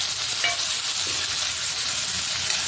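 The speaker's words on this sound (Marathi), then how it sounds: "सर्व मिश्रण चांगले परतून घ्यायचे आहे" A cabbage masala mixture with cumin, ginger-garlic paste, peanuts, onion and finely chopped tomato sautés in a pan, giving a loud, steady, close hiss of frying throughout.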